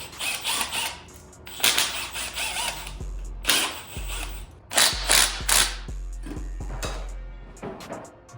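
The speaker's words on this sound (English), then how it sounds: "now I'm about to go ahead and remove the oil pump screws that hold it down" Oil pump screws are worked loose on a Mercedes M113 V8 engine, with bursts of close ratchet clicking broken by metallic clunks and short pauses between turns.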